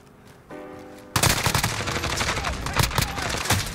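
Grau rifle gunfire in the shooter game Modern Warfare, rapid automatic bursts that erupt after a brief lead-in and continue densely and loudly, with a voice speaking under the shots.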